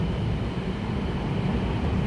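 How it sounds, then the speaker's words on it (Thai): A BTS Skytrain passes at Samrong station, heard from the platform of the elevated Yellow Line station as a steady, fairly loud rumble of rolling rail cars that stays even throughout. "BTS สวนกัน ไปแล้ว"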